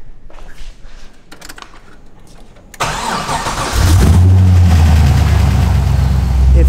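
An SR20 engine in a roadster cranks briefly, catches and settles into a loud, steady rumbling idle close by, after some faint handling noises.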